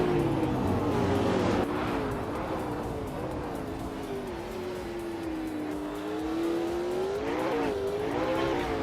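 A 2001 TVR Tuscan S in a racing video game, its engine droning loudly at high revs with pitch sweeps through gear changes and a brief tire squeal, continuous throughout.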